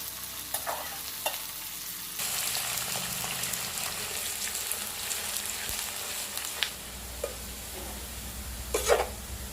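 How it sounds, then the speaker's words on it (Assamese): Onions frying in oil in a pan over a medium gas flame, a steady soft sizzle with occasional clicks and scrapes of stirring, close and moderately quiet, no voices. "পিয়াজখিনি এতিয়া মই ভালদৰে ফ্ৰাই হোৱালৈকে ভাজি থাকিম গেছটো মিডিয়াম ফ্লেমতে ৰাখিছো"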